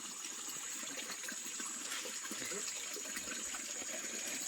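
Rising village river water rushes and gushes at night after the first rain, a steady close wash of flowing water that continues unbroken throughout.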